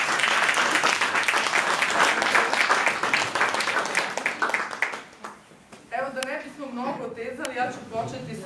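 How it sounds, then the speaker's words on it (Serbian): An audience at a literary evening applauds a book club and its guests. Full, sustained clapping runs for about five seconds, then thins out and a voice begins speaking close by. "I molim vas jedan aplauz za književni klub i za Ljilju i za Miloša"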